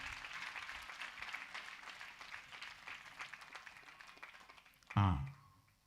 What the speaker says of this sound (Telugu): కొట్టండి చప్పట్లు జోస్ఫీన్కి